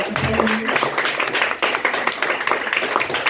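A church congregation claps in a dense, steady patter during worship that continues throughout, loud and close, with a brief voice near the start.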